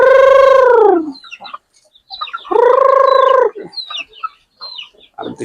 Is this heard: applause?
no